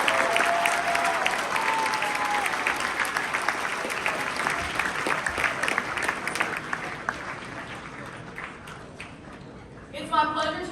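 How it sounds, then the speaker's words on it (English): Sustained applause from a large audience at a youth assembly's opening address, honoring supporting officers; dense, steady clapping across the hall under murmuring voices, tapering toward the end. "Please give a round of applause to all your supporting officers."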